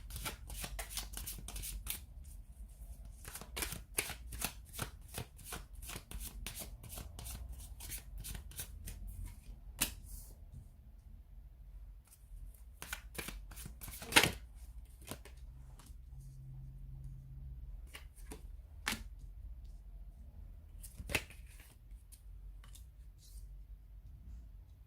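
Tarot cards being shuffled by hand: a long run of soft, rapid riffling and flicking, close and quiet, with brief pauses and occasional sharper snaps.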